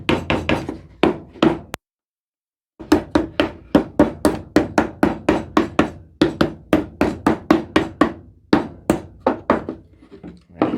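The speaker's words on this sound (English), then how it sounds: "I got a big wooden hammer here" A big wooden hammer knocks a wooden board during a woodworking build: a steady run of sharp, loud, close thunks, one brief pause, then more rapid blows.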